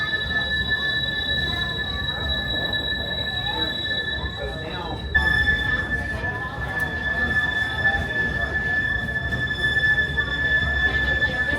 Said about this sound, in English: You can hear the shrieking noise of the train